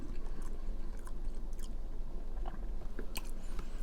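Close chewing of a fried bologna sandwich with Doritos, continuous wet mastication with occasional crisp crunches and bites, no talking.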